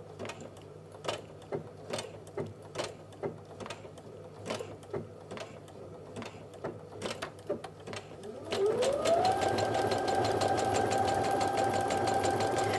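A Brother sewing machine stitches with a walking foot, first in a slower run of distinct, evenly spaced mechanical clunks, then jumping to maximum speed as a steady, loud whirring motor hum with rapid needle rattle.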